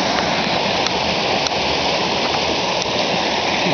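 A violent mountain torrent that often floods its banks rushes loudly and steadily, with a dense, continuous roar of churning water close by and no talk over it.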